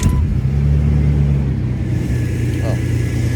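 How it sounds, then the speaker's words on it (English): A car engine idles after a restart with a steady low rumble, a faint squeaky pulley whine briefly rising over it near the end. "Let me restart it right now, see if it's still making the noise."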